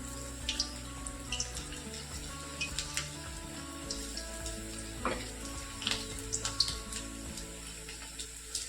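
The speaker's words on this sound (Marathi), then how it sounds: "आणि पनीर तळत असताना गॅसची फ्लेम मिडियम ठेवायची आणि तेल मध्यम गरम करायचं" Paneer fries in medium-hot oil in a kadhai over a medium gas flame for chilli paneer, a quiet continuous sizzle with scattered small spits and crackles close by.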